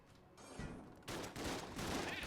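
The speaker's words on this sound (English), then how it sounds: "Vulcan Cannon! This fires so quickly." Vulcan Cannon in Enter the Gungeon firing rapid bursts, a dense crackling stream of gunfire that starts faint and jumps louder halfway through, no talking.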